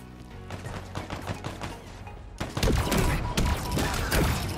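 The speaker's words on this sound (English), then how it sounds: "This pistol is a beast." Pistol gunfire in Halo Infinite multiplayer: a string of sharp, close shots in quick irregular succession over a busy game backdrop, growing louder and denser in the second half.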